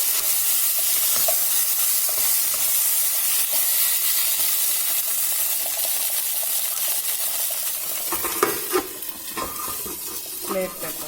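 Cut brinjal frying in an oily pan gives a loud, steady sizzle and hiss throughout, with scraping stirring and clatter toward the end.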